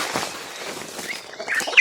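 Newly arrived ducks on a farm give a brief, close quacking call, with a brighter squawk near the end, in a short burst with no talking.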